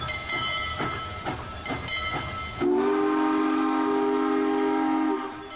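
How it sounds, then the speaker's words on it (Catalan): A train pulls away from a station in a period setting: rattling clunks of the cars give way to a loud, sustained steam whistle that holds steady for a couple of seconds over hissing steam before cutting off. "Puja el tren i se'n va directe cap al seu vagó particular."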